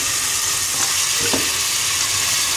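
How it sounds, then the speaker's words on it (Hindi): Chicken frying in ginger garlic paste, giving a loud, constant sizzle close up, with a couple of faint stirring scrapes and no talking. "और हम चिकन को गोल्डन ब्राउन कर लेंगे। अच्छी तरह से भून लें।"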